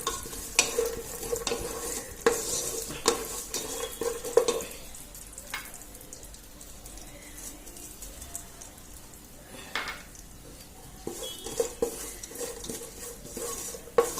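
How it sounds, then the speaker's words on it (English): Desiccated coconut and sesame seeds are stirred in a pan with oats and dry fruit, giving a soft, steady sizzle with repeated scraping strokes of a spatula on the pan throughout, with no talking. "let us add some desiccated coconut, that is the coconut powder, and the sesame seeds"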